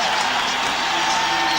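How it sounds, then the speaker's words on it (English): Basketball arena crowd cheering for the home team during an NBA game against Boston, a dense, loud, continuous roar of voices and applause with no break. "This crowd attempting to get the home club back into it"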